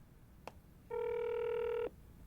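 A telephone call in a Korean crime drama gives one electronic ring tone of about a second. It is clear and steady, and faint background hush surrounds it.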